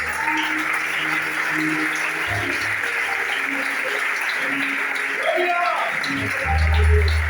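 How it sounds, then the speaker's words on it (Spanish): Congregation applause during a Spanish-language church service, a steady wash of clapping under ongoing voices, with a low rumble rising near the end. "Le aplaudes al Señor si lo crees."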